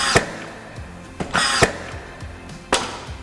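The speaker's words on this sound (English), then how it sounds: "we're just gonna use our 16 gauge nailer and pop some nails in" A 16-gauge finish nailer fires nails into exterior front window trim and apron in a house flip, giving three or four sharp, loud pneumatic snaps at irregular intervals, close up, with no speech.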